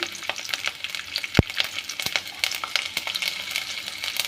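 Cumin, curry leaves and garlic frying in oil for a drumstick leaf dal, with a steady crackling sizzle, sharp pops from the spices and a few utensil taps as they are stirred, close and clear with no talk.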